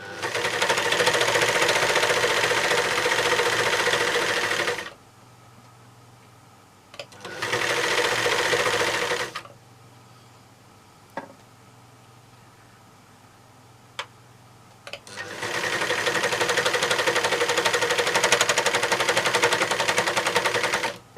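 A serger overlocker stitching fabric runs in three loud, fast, steady bursts of about five, two and six seconds, separated by quiet pauses with a few soft clicks.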